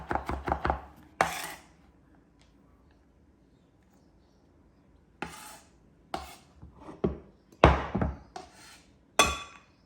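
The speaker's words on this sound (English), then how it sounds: "it's better that you do cut them up into tiny pieces unless you want chunks of garlic in your mouth" Knife chopping garlic into tiny pieces on a cutting board for chickpea and vegetable soup: quick clusters of sharp close thwacks, a rapid burst at first, a pause, then more irregular chops.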